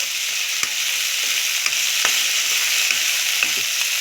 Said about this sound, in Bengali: এবার আমি ধনেপাতাটা দেবো। যেহেতু আমাদের বাড়ির সবাই ধনেপাতা পছন্দ করে না, ওই জন্য আমি ধনে পাতাটা একটু ভেজে নেব